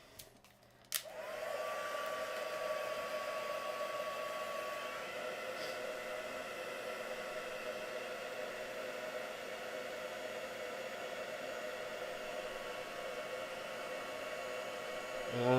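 A heat gun melts clear embossing powder on a stamped card-making image, starting with a click after about a second and then blowing as a steady, close, loud broadband hiss with a faint whine throughout.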